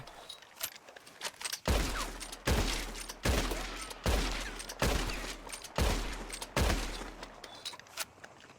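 Gunfire in the Red Dead Redemption 2 video game, fired at a tree: about seven loud, sharp shots spaced roughly a second apart, each with a short echoing tail, standing alone with no talk.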